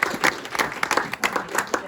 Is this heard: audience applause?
yes